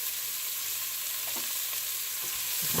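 Vegetables sizzling and frying in a pot after chicken sausage was browned over medium-high heat, a constant close crackle with a few stirring scrapes.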